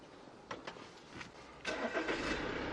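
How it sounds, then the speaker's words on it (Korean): A diesel camper van's 2200cc engine cranks briefly, stutters, then catches and settles into a low, steady run; fairly quiet and close. "시동도 정말 잘 걸립니다"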